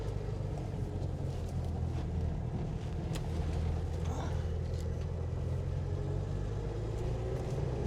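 A car engine's steady low rumble from inside as the car slows to a stop, with constant road and wind noise throughout and no clear change in pitch.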